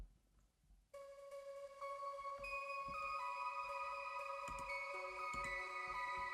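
Hyperpop synth lead run through Echo Boy Jr, Crystallizer and Chromaverb effects, entering after a near-silent moment and ringing out as shimmering, echoing sustained tones that build and hold, played alone.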